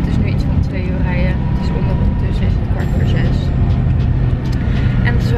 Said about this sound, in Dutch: We zitten in de bus.